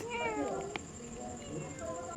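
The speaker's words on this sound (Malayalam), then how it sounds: "ആ പൂച്ച പോയിട്ടില്ല, അവിടെ തന്നെ ഇരിപ്പാ." A cat meows nearby in a drawn-out, wavering call, with a short sharp knock partway through and faint voices in the background.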